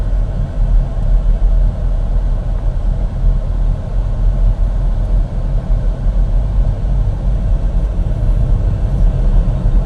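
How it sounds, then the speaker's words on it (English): A car engine strains while climbing a hill before a downshift, giving a steady, loud low rumble that holds throughout with no talk over it. "now I can hear the car starting to struggle"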